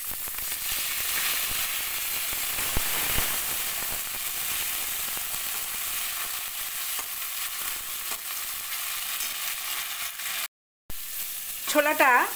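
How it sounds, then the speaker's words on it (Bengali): Chickpeas fry in a pan for a taro leaf curry, a steady close sizzle with stirring scrapes throughout. The sound cuts out briefly near the end. "ছোলাটা সামান্য একটু সময় ভেজে নিলাম।"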